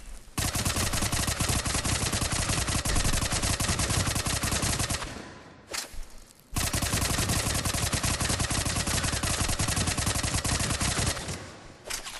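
Tempest submachine gun in Mass Effect 3 firing at mid-range, long sustained rattling volleys that run nearly unbroken for several seconds, pause briefly, then resume just as loud and close.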